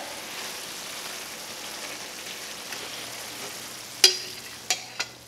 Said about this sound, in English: All right, this is beginning to simmer.